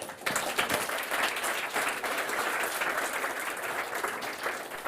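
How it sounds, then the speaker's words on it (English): A crowd at a startup pitch competition final breaks into loud, sustained applause right after a talk ends, with thick, continuous clapping from many people that holds strong and even throughout. "Big applause."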